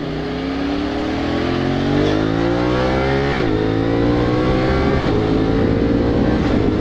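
A CFMOTO 450SR motorcycle revs steadily upward with rising tones, briefly dropping at shifts, its quick shifter giving sharp pops and crackles at each change, loud and close.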